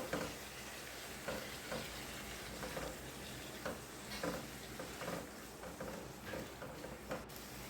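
A spoon stirs potato and tomato curry in a pan over a steady sizzle, with soft repeated scrapes and taps at an irregular rhythm, close and fairly quiet, with no voices.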